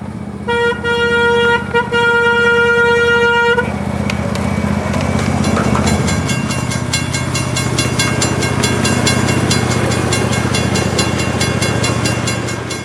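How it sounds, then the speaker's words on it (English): A miniature railroad train rolls through a park on its passenger ride, opening with a few loud horn toots followed by a steady rumble and clatter of wheels on track that continues close by throughout. "there's even a miniature railroad that takes passengers on a 15-minute ride through the park"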